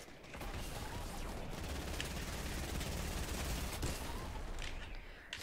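Fortnite Team Rumble gunfire, steady rapid shots from an infantry rifle and other weapons sustained across the whole span, moderately distant and even in level with no voices.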